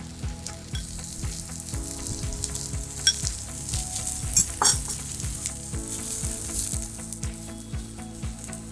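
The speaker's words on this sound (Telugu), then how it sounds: "ఇవి ఇట్లా ఫైవ్ మినిట్స్ ఒక టూ త్రీ మినిట్స్ ఇలా సాతే చేసుకుంటాము" Mushrooms sautéing in a pan for Italian-style pasta, with a steady close sizzle broken by repeated scraping stir strokes and a few sharp clatters, and no one speaking.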